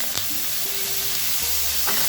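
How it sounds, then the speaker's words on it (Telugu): Tomatoes and curry leaves fry in a pan for a Telugu tomato coconut chutney, giving a steady, close hiss and sizzle with faint stirring throughout. "కొద్దిగా వేగిందండి, కరివేపాకు కూడా వేస్తున్నాను. ఇంకా ఇందులో టమాటా వేద్దాము."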